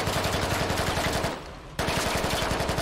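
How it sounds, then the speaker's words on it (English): Blind automatic fire in the military shooter Squad, a fast steady rattle of close, loud rounds that briefly stops and then resumes at the same rapid rhythm. "blind fire"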